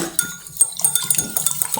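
A spoon scrapes and clinks against a bowl while chocolate cake batter is stirred, giving short, irregular knocks and scrapes close by.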